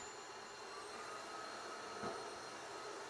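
A vacuum cleaner running on turbo mode gives a steady, even high-pitched whine and rush of air that holds constant throughout, with no talk.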